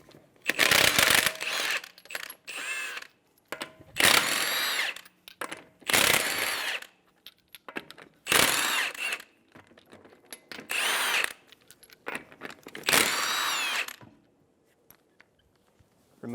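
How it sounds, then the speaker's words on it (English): A power impact tool removes lug nuts with a 21mm socket from a 2007-2011 Toyota Camry wheel, giving about seven loud, close rattling bursts of a second or two each, separated by quiet gaps. "Using a 21mm socket, remove the lug nuts."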